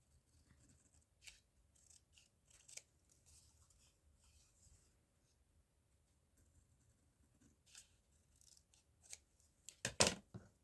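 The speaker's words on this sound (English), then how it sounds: "Let's just go with scissors." Scissors cut a paper collage strip in a quiet room: a few soft, scattered snips early on, then a louder, sharper cluster of cuts near the end, with no talking.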